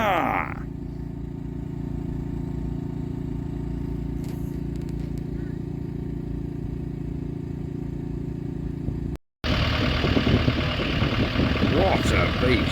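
A stationary engine runs steadily at the Strumpshaw steam rally, a low, even idling throb that carries on without a break, then gives way after a brief cut to busier, noisier outdoor sound.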